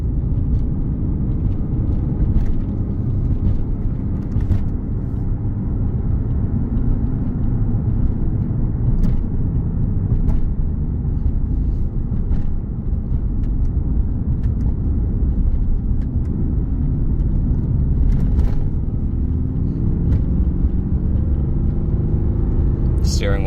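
A 2020 Mercedes-Benz AMG GT R with 29,260 miles, in Sport Plus mode on a test drive, heard from inside as a steady low engine and road rumble with no clear revs.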